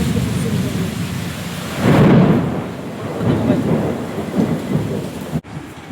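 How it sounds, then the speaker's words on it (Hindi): Heavy monsoon rain pouring in Balasore, with a loud rolling rumble of thunder swelling early on over the steady hiss of the downpour, then fading back into continuous rainfall. "बालेश्वर जोरदार वर्षा आरंभ हो जाइछि"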